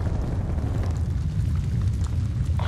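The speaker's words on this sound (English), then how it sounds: "Release napalm strike on my mark." A napalm strike in Call of Duty: Black Ops Cold War produces a continuous, loud, deep roaring rumble that holds steady for the whole moment without a distinct single blast.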